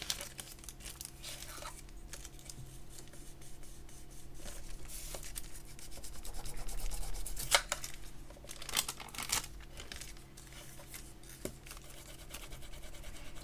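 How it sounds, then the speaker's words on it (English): Polymer clay for star earrings is burnished by hand, producing soft, close rubbing and crinkling strokes in irregular bursts over a quiet background, with a few sharper scrapes and taps. "again, some burnishing"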